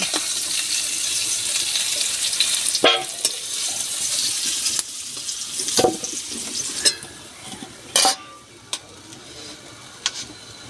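Potatoes fry in hot oil in a home kitchen, a steady bright sizzle running throughout with a few sharp clinks and scrapes of stirring.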